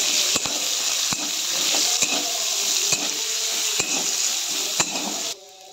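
Chopped onions frying with salt in a pan, a steady close sizzle broken by sharp, regular scrapes and taps of a stirring spoon against the pan, ending in an abrupt drop to quiet.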